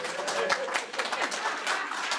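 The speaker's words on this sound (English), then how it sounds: "I don't usually get an applause" A small audience at a library art-storytelling event gives a brief round of applause, a steady patter of clapping with a voice speaking over it.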